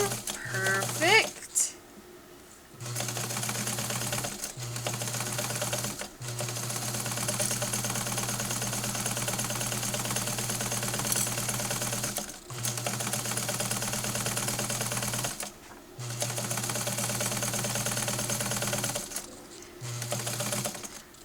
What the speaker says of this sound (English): now we're about to sew through a lot of fabric